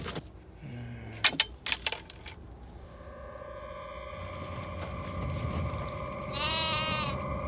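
A few sharp clicks, then a sheep bleats in a drawn-out, wavering cry over a steady background hum.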